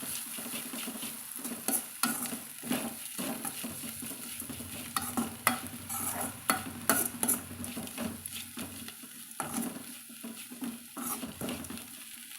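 Spiced bitter gourd fry stirred in a pan with ghee, a spoon scraping and clacking repeatedly against the metal over a steady close sizzle.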